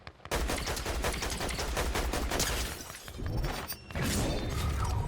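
Guards open fire in Fortnite Zero Build, a loud, close barrage of rapid gunshots that runs for several seconds, dips briefly, then resumes with renewed bursts.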